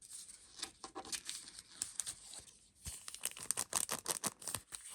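Paper surprise packages are torn open and unwrapped up close, giving a continuous quiet crinkling and tearing rustle in uneven bursts, with a brief pause midway and no talking.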